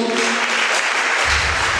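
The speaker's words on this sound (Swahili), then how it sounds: "piga makofi kwa Yesu." Applause from a church congregation, a dense, continuous patter of many hands clapping close by, with a low rumble entering near the end.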